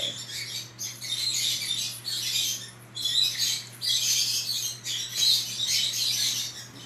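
Outdoor birds squawk and chirp in repeated bursts, fairly close, over a low steady hum, with no talking in between.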